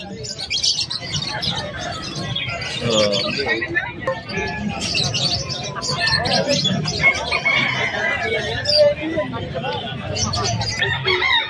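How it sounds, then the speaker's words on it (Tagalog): Chickens crow and cluck amid bird chirps at a busy pet market in Malabon, with people talking throughout over the animal calls. "Tinan nyo naman yung manok na to, oh."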